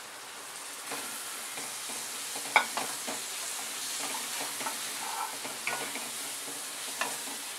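Chopped tomatoes for paneer bhurji fry in a pan, a continuous moderate sizzle broken by scattered spatula stirs and scrapes, heard alone without voices.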